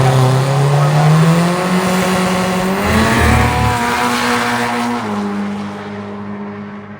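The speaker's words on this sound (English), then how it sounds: "We're down here at the Corey Mack VW show and drag race at Las Vegas Motor Speedway" Volkswagen drag racing cars at a VW show and drag race at Las Vegas Motor Speedway, one engine roaring loud and close at high revs for several seconds before its pitch steps down and the sound slowly fades.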